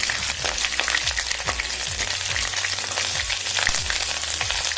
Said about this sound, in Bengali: এলাচ দারচিনি পাঁচফোড়ন লবঙ্গ চিনি লঙ্কা তেজপাতা দিয়ে দিলাম তাকে দিয়ে নেড়ে নিচ্ছি